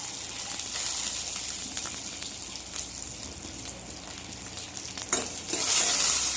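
A dried red chili and a sprig of curry leaves fry in hot oil for a Tamil curd curry, giving a soft, steady crackling sizzle that swells into a brighter burst of spitting near the end.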